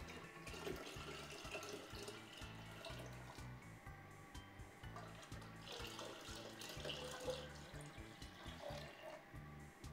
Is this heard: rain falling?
no